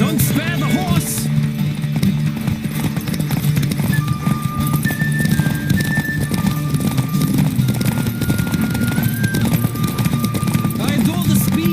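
Steady, rhythmic hoofbeats of a galloping horse in the video game The Witcher 3: Wild Hunt pound continuously, close and loud, while a voice speaks over the running.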